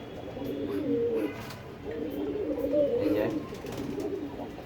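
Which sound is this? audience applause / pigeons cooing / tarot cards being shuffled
pigeons cooing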